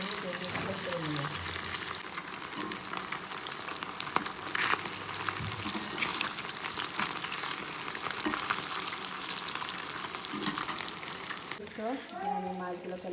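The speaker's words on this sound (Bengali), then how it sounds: "আমি মাছগুলোকে লাল লাল করে ভেজে নিয়েছি।" Fish fry in hot oil until reddish-brown, a steady close crackling sizzle with occasional stirring clatter, and a voice briefly speaks near the end.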